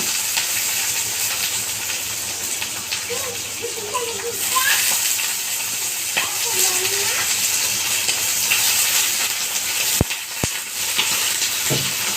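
Eggplant and potatoes fry in a hot pan, a steady broad sizzle and hiss running throughout, with stirring scrapes and a few sharp utensil clicks near the end while a person talks over it.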